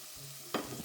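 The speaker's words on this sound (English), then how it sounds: "saute them until they're cooked through and a bit translucent" Onions and tomatoes sauté in a pan, a soft sizzle broken by one louder stirring scrape partway through, heard alone and close.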